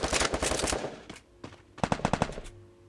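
Bursts of rapid automatic gunfire from the Free Fire battle royale game, a dense stream of shots followed after a pause by a quicker rattling volley of separate cracks, loud and close.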